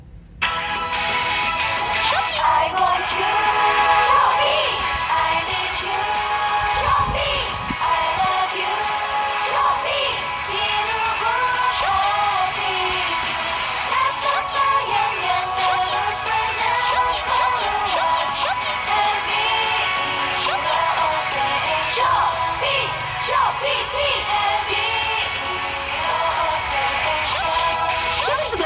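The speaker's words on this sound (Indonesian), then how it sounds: "Oke, itu adalah suara stereo speakernya," Audio plays loudly through the dual stereo speakers of a Poco F6 smartphone, a continuous dense full-range sound held steady throughout with no talk over it.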